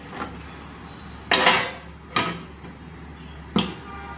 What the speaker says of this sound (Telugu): వేసుకొని మూత పెట్టేస్తున్నాను.